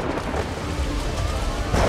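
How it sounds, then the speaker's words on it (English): A massive tropical thunderstorm over the Amazon rainforest, with heavy rain hissing steadily and a deep rolling rumble of thunder filling the whole stretch at high volume. "A massive tropical thunderstorm is building in the skies above them"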